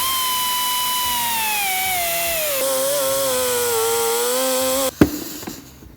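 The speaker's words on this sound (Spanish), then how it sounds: "yo voy a hacer el recorte con una sierra circular." A circular saw whines at high pitch, its tone sagging as the blade bites into a 2018 Audi A7 Sportback bumper, then cuts off with a sharp clatter and fading rattle.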